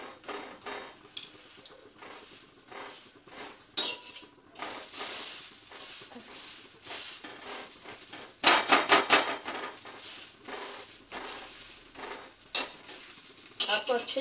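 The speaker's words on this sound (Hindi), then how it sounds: "कम तेल में इनको हमें फ्राई करना है और इनको क्रिस्प करना है" Aloo tikki shallow frying in a little oil on a tawa griddle, pressed down firmly: a steady close sizzle broken by sharp metal clinks and spatula scrapes, louder bursts near the end, no voices.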